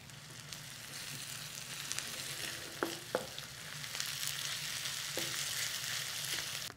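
Onions and scallions sizzle in a pan off the heat, a soft steady crackle and hiss with a few light clinks of a utensil stirring.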